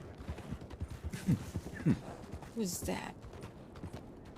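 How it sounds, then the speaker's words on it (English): An agitated horse in the Red Dead roleplay game WildRP snorts and clip-clops, with a few sharp whinnying bursts close by, while someone talks. "Oh, this horse is pissed."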